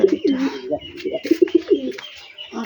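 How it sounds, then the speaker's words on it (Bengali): A pigeon coos close by in a series of soft, throaty, repeated calls, with brief pauses between bursts. "কবুতরটা"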